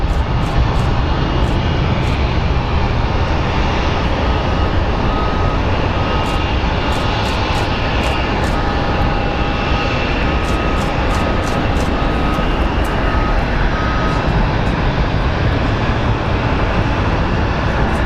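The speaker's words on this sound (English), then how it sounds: "That is one big plane getting ready to lift off." A big airliner powers up for takeoff at Phoenix Sky Harbor, a loud, steady, broad jet roar holding for the whole stretch with no voices.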